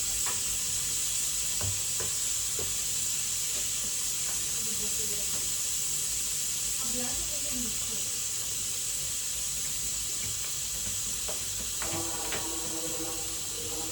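Continuous loud sizzling and hissing of a spice tempering with asafoetida in hot oil, with scattered clinks and stirring knocks throughout and a burst of crackling near the end.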